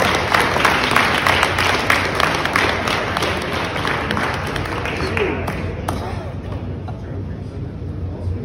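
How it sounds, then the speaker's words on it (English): A round of applause from the crowd at a karate and powerlifting event, dense steady clapping that thins out and fades after about six seconds, with voices murmuring beneath it. "let's give him another round of applause for that"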